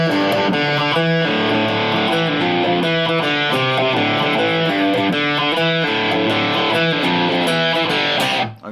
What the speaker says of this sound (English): we're going to look at our intro riff